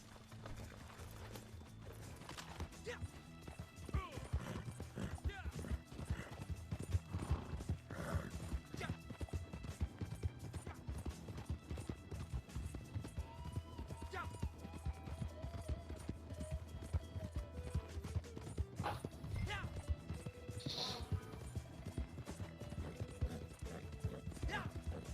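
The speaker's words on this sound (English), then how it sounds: "Get over here, horse." In a western video game, steady clip-clop hooves of a horse run continuously, with whinnies and neighs rising over them and people talking intermittently throughout.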